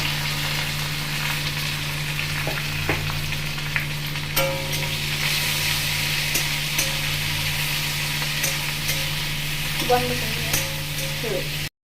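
Onions fry in hot oil until they turn reddish, a continuous close hiss with a low steady hum underneath and a few faint clinks of a spoon, no one speaking.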